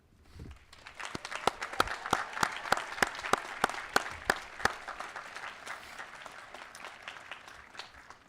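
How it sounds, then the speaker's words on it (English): A commencement audience applauds the college faculty: sharp, evenly spaced claps stand out at first, then the clapping fills into a dense, moderate round that slowly fades. "Please join me in a round of applause for our superb faculty"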